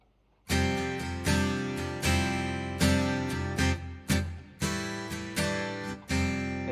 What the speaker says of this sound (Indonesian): Stroke noise itu adalah suara cek cek cek gitu